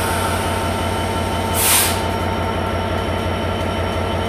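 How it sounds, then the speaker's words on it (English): A Freightliner Class 66 diesel freight locomotive departs Shrewsbury station, with a loud, steady low engine drone and rail rumble throughout and a brief hissing burst in the middle. "the Freightliner 66414 is now departing out itself."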